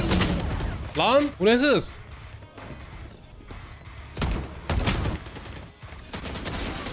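Valorant gunfire cracks out in short bursts of shots and impacts, mixed with game sounds, while someone talks excitedly over the action.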